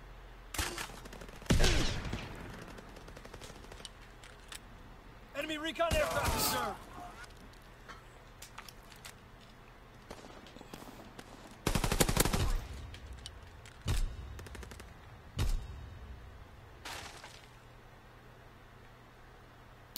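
Machine pistol bursts in a Call of Duty: WW2 multiplayer match, several short rapid volleys spaced across the stretch with quieter gaps of game ambience between them; someone talks at times over the action.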